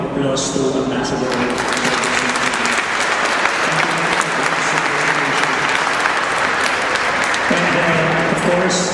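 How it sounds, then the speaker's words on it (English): An audience at an embassy anniversary celebration in The Hague applauds the ambassador with steady, dense clapping that fills the whole stretch, while voices carry on over it. "Let us give our applause to Ambassador"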